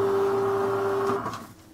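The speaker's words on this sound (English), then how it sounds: "Press the feed button and you'll see that the spool spins round and starts taking up the paper" A Casio SE-G1 cash register printer feeds paper while its take-up spool turns, producing a steady motor whine and hum that tails off into faint clicks.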